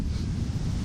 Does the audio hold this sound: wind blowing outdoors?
yes